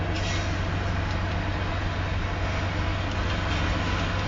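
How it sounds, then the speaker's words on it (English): An eastbound Union Pacific stack train rolls past in the rain in Nevada, Iowa, a steady low rumble of wheels and cars that holds evenly throughout. "At least we're filming a stack train, Tiffy."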